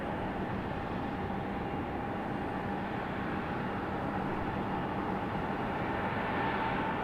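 A JetBlue Airbus A220 airliner at Raleigh Durham International Airport makes a steady, broadband roar with a faint constant whine. The sound holds at an even loudness throughout, moderately distant, with no talk over it.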